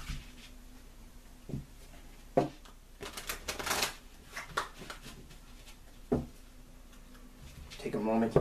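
A tarot deck being shuffled by hand, with soft riffling and sharp card taps at irregular intervals under quiet ambience, while a voice speaks softly between the bursts.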